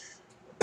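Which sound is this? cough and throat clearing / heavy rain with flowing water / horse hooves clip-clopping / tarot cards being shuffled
cough and throat clearing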